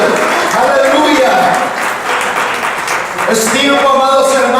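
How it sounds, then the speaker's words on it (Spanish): A church congregation applauds steadily in praise, a dense continuous wash of clapping mixed with voices and singing throughout. "Dele ese aplauso a Él, aleluya."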